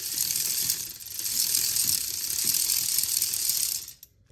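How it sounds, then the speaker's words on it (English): A ratchet on a long string of extensions turning a transmission bolt on a 2002 Ford Mustang TR3650 swap, a continuous fast clicking that runs for about four seconds, then stops, close up. "I have a ratchet and like a shit ton of extensions, and I'm just turning and burning slowly"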